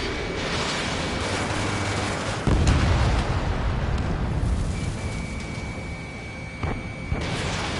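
Booming missile explosions in the Ace Combat 7 air combat game, a continuous rumbling barrage with a sharp, heavier blast partway through over steady jet noise.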